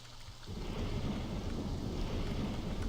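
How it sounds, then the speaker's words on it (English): Steady rain and a low rumble of thunder fill a stormy scene in the video game Trilby's Notes, a continuous dense wash of rainfall with deep rolling thunder underneath and no voices. "Light rain pattered against the glass, the gentle noise punctuated by rumbles of coarse thunder."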